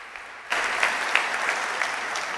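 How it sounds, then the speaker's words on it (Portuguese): Church congregation bursting into applause: steady, full clapping from a crowd that starts abruptly and continues evenly without any talking. "Você pode aplaudir Jesus."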